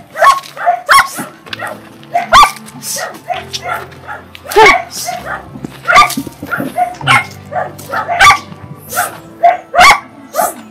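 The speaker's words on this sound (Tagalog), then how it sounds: "Ang dami aso." Several dogs bark and yip in quick, overlapping bursts throughout, fairly close, with people talking at the same time.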